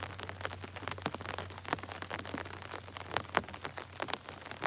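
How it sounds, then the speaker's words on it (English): Rain falling at night during a channel catfish fishing trip, a steady patter of scattered drops tapping a surface, close and fairly faint, with no talk. "Raindrops falling on my head."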